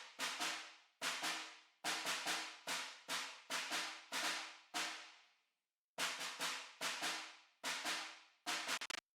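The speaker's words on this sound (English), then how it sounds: "I've chosen a kind of percussion sound and also resampled it again" Resampled percussion sound from the Opus plugin in a pop production: a sequence of bright, decaying percussive hits in a syncopated rhythm, with a short pause midway and a rapid cluster of hits at the end, dry and alone.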